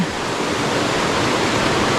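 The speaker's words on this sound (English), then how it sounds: "So as I come down to the river's edge now" The River Dart rushing past at the water's edge, a loud steady broadband roar of flowing water close by, alone without voices.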